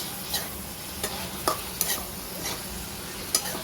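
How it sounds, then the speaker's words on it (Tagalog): Sticky rice valenciana being stirred in a pan over a flame, with a steady soft sizzle of frying beneath a few sharp scraping strokes of the spoon against the pan, close by and without talk. "Halo-halo ko lang to."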